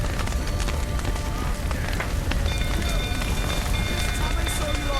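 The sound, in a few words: rain in The Witcher 3 video game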